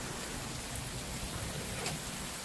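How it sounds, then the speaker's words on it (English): Steady rain pours down in a dense, even hiss, continuous and fairly close, with no voices. "we got a little storm and it's gonna rain most of the day"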